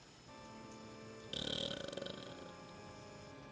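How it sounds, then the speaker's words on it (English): A single drawn-out burp, fairly close and loud, rising suddenly from a quiet background hum and fading out over about a second. "And a burp."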